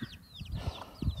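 Chickens and roosters cluck in short, agitated alarm bursts close by as a hawk is near, with faint chirping birds in the background.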